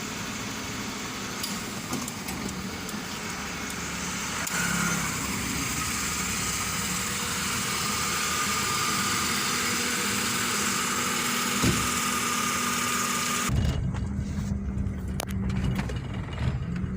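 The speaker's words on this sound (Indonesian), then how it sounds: "Oke, kita akan melakukan tes jalan mobil Hyundai Atos ini." A 2004 Hyundai Atos runs on a test drive, giving a steady engine hum and road drone that builds slightly, then cuts off sharply near the end.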